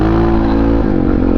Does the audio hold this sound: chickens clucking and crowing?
no